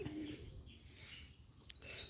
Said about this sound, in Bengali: অনেক সুন্দর ডাকে কবুতরের ডাকে